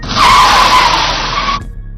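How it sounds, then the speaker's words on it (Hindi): A car brakes hard to a sudden stop, its tires letting out one loud, sustained screech that holds steady for about a second and a half before ending abruptly. "तेजी से पैर ब्रेक पर मारकर गाड़ी रोक देती है। जब ही गाड़ी एकदम से रुकती है"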